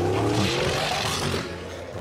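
A fast car roars past in a funny fails compilation, a loud broad rush of engine and road noise with a faintly rising whine, fading slightly toward the end.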